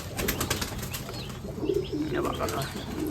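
Rajasthani pigeons flap their wings in quick bursts and coo softly nearby, against a faint background murmur.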